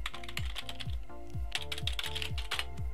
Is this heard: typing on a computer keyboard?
yes